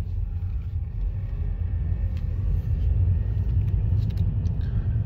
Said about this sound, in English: these cars are actually insane.